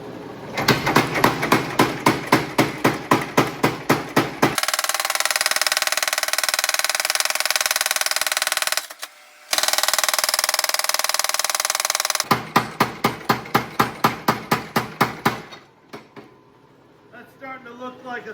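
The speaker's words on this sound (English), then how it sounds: "And then straight to the power hammer" A power hammer forges a big square steel bar into a knife, striking in rapid, heavy rhythmic bursts. A loud steady roar fills the gap between the bursts.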